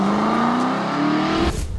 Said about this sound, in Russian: Смотри, я сел на эту сиденье и поехал.